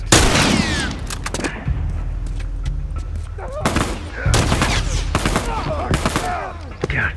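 Rifle gunfire in the video game The Last of Us: loud, sharp shots and short bursts spaced irregularly, with echoing tails and some voices mixed in between.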